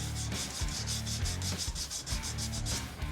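Fine-grit sandpaper is rubbed over guitar frets in quick, even back-and-forth strokes, each pass a close, dry scratching swish repeating about four times a second, with no voices.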